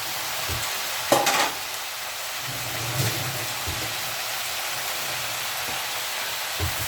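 Eggplant and chopped tomato fry in a pan while being stirred, giving a steady close sizzle with a few louder scraping stirs and clatters, no talking.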